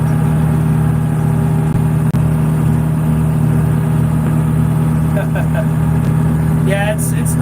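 A tractor engine runs steadily in the background, a constant mid-pitched hum throughout, with a voice talking over it.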